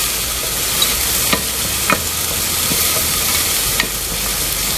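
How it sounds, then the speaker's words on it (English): Dal palak khichdi is stirred and sautéed in a pot: a constant sizzle with a few distinct scraping clicks of the spoon at irregular intervals. "Let's mix it well. So now I'll be normally making the khichdi."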